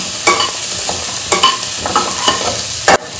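Cauliflower florets with thyme sauté in a pan for a cream of cauliflower soup, giving a close, continuous sizzle broken by several sharp clacks and scrapes of stirring.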